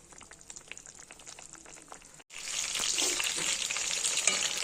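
Mustard greens curry (sorshe shaker jhol) sizzles and bubbles in a pan, with a quieter simmer that cuts out briefly before a louder, hissing frying surge fills the rest.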